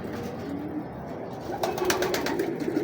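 Pigeons coo softly nearby, low murmuring calls that grow a little louder and more frequent in the second half.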